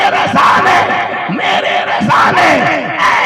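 A crowd at a Jashn-e-Eid Milad-un-Nabi gathering shouts religious slogans in unison, loud, close voices rising in repeated bursts of collective yelling that fill the space.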